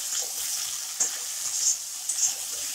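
Chili, coriander and turmeric masala powders are stirred into okra frying in a pan, a steady close sizzle broken by a few sharp scrapes of the spoon, with no talking.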